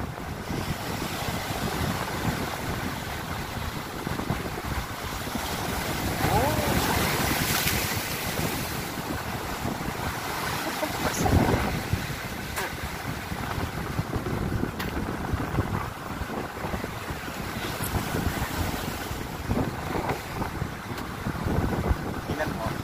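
Steady wind and washing ocean waves fill the whole stretch, with the rush swelling and easing continuously, close and fairly loud.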